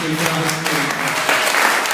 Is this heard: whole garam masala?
no